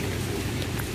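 Steady rain falling outdoors in Visakhapatnam during a college day, a dense, even hiss that stays loud and continuous throughout, with no voices.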